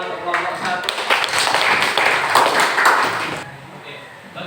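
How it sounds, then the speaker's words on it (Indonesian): Classroom applause for a student group after a presentation, a dense patter of many hands clapping steadily for about three seconds before fading out. "Kasih tepuk tangan untuk kelompok 1."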